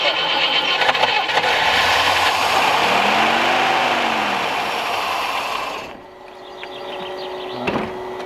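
A 1969 Rover P6 Series 1 3500 V8, unrun for 16 years, cranks loudly and steadily for about six seconds without catching, the starter whine rising and falling, then cuts off into quiet.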